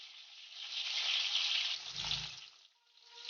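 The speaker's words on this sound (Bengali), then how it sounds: "আমি তেলে আলুগুলো দিয়ে দেব।" New potatoes frying in hot oil, giving a steady, close hiss and sizzle that swells and then eases slightly, with a soft low thump partway through.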